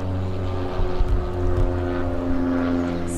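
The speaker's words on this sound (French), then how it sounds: "Ce qui est moins mignon, c'est l'avion qui passe au-dessus." An airplane passes overhead, a steady low droning hum with a broad rumble that swells and holds, heard outdoors from a parked van with no talk.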